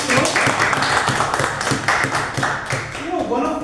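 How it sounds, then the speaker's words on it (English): An audience at a Toastmasters club gives a round of applause, a burst of dense clapping close by that carries on for several seconds and gradually thins out. "Let's give a round of applause for"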